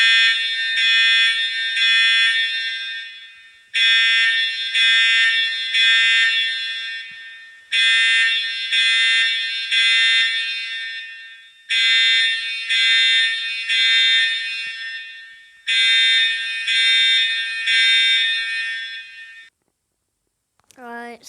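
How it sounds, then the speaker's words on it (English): A fire alarm sounds loudly in five long, evenly spaced bursts of a piercing electronic tone, each lasting a few seconds, separated by short silences. A brief rising chirp closes the sequence. "today we're gonna be doing fire alarm sounds"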